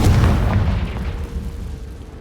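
A Confringo fire spell bursts in Hogwarts Legacy, a loud, deep boom right at the start that rolls off into a fading rumble over two seconds.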